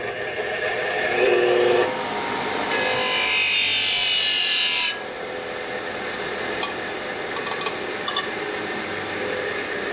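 A steady, harsh grinding whine with bursts of louder abrasive screeching as a drill bit edge is pressed against a spinning grinding wheel, continuing for several seconds.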